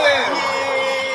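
Arena crowd at a basketball game roaring with cheers, whoops and yells, a dense, steady wall of voices throughout the short stretch.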